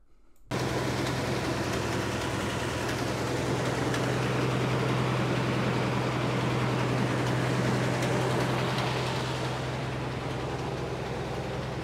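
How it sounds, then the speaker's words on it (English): Frick sawmill motor running steadily with its bearings spinning, a continuous low mechanical hum and whir that holds at an even, loud level throughout after a brief quiet start. "you do it when the motor is running, bearings are spinning"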